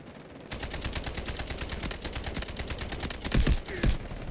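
Sustained automatic rifle fire in the shooter game Delta Force, a loud rattling stream of rapid shots with a few heavier impacts near the end, and no speech over it.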